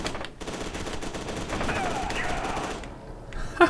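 Gunfire in the first-person shooter F.E.A.R. 2: Project Origin, a dense, sustained burst of rapid shots with game noise. It ends in a brief sharp hit near the end.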